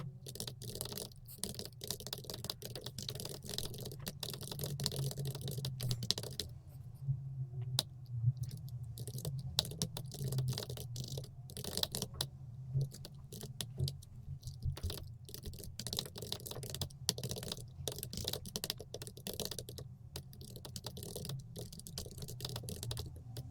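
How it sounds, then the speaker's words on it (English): Free text being typed on a computer keyboard, a steady run of light clicky keystrokes with brief pauses, close and fairly quiet over a low background hum. "I'm gonna type a free text right now."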